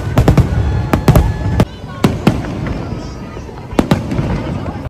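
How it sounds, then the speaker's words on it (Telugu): Fireworks bursting at a July 4th Independence Day celebration after an evening concert: a rapid series of sharp cracks and booms, some in quick clusters, with crowd murmur and voices under them. "ఇక టపాసులు స్టార్ట్ అయితే"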